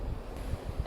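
Strong outdoor wind on Arctic Svalbard at around freezing roars as a steady, rough gust across the microphone for under a second, with no voices.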